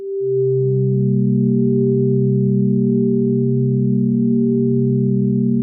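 A smooth synthesizer pad holds a steady, sustained chord for several seconds, soft-edged and unchanging, with no voices.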